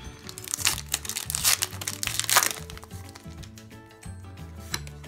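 A crinkly foil Pokémon card pack rustles and crackles up close as it is opened, with sharp tearing and crunching bursts in an irregular rhythm, no talking.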